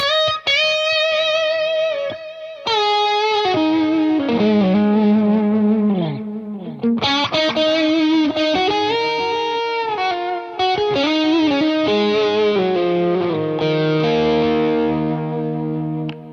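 Sustained electric guitar notes and bends ring out with heavy effects, echoing repeats and a wash of reverb trailing each phrase, loud and continuous.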